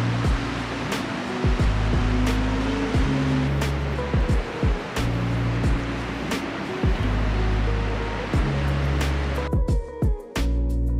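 Niagara Falls on the Canadian side pours a massive volume of water, giving a steady, loud, dense roar that fills the whole scene and only dips briefly near the end.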